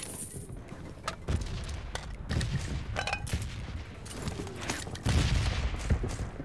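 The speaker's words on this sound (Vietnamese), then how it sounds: "Bọn nó đang bắn nhau kìa." Gunfire from a PUBG Mobile battle near Pochinki, a scattered series of distant, fairly faint shots and short bursts spread across several seconds over low game ambience, with no voices.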